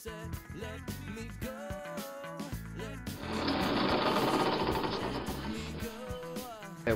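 A power drill whirs steadily for a few seconds, drilling a hole in wood, loud and close, with background music playing before and after.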